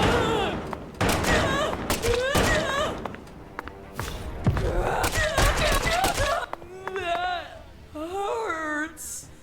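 Gunshots fired in the video game Deadly Premonition 2: several sharp, loud bursts spread through the clip, mixed with a person talking in between.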